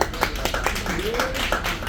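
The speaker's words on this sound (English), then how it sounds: "Give yourselves a round of applause for sitting so quietly" Brief scattered clapping from a small audience, a few claps under a voice speaking over it.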